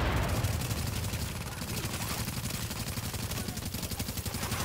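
Video game gunfire rattles nonstop as dense automatic fire. It is layered over a low rumbling background, and it stays at a steady level throughout.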